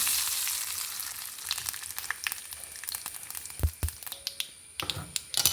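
Green chillies fry in hot ghee for tomato chutney, giving a steady close sizzle broken by sharp crackles and pops that bunch together near the end.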